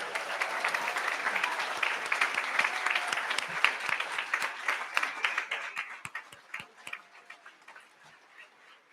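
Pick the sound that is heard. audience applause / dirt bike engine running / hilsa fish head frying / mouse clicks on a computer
audience applause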